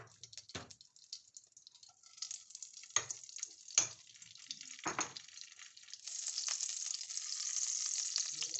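Ghee heats in a pan on the stove as fox nuts (makhana) are added to fry, giving a soft crackling sizzle with a few scattered sharp clicks that builds into a steady, fuller fry toward the end, with no voices.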